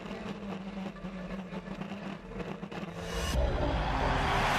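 A rallycross supercar at World Rallycross of Canada drives flat out toward the finish line, its engine a loud, rough, fluctuating roar that swells into a steady, heavier rush near the end.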